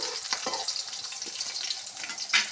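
Chillies crackle and sizzle in hot oil for a tempering, a steady bright frying hiss with a few sharper pops, close and loud with no talk.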